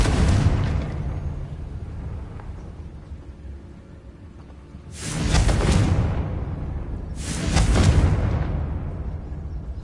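Confringo blasting-spell explosions in the Hogwarts Legacy video game: a rumbling blast followed by two more booming bursts a few seconds apart, each swelling loud and then fading.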